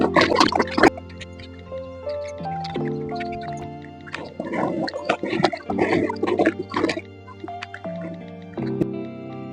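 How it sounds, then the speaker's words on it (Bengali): A silk saree rinsed by hand in a bucket of clean water, steady wet squishing and dripping with sloshes and pauses, close and fairly loud, with no talk. "এবার বন্ধু, পরিষ্কার জলের মধ্যে শাড়িটা ধুয়ে নেবো।"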